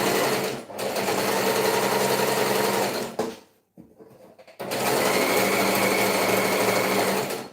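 A sewing machine stitches fabric in fast, steady whirring runs, close and fairly loud, stopping briefly near the middle with a short quiet gap and a few soft handling sounds before the stitching resumes.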